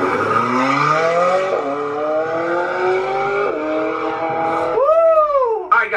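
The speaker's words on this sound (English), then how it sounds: "we're just having some fun with their McLaren right now" McLaren sports car driving hard, loud engine revving through rising gear pulls with quick shifts, ending in a sharp high rev sweep and tire squeal, close by.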